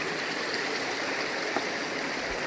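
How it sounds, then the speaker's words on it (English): Loud, continuous rush of stream water in the narrow canyon at Kanarraville Falls as a hiker wades through it, with no distinct footstep splashes standing out and no voices. "my feet were frozen because of stepping in this water, which is what I'm doing right now"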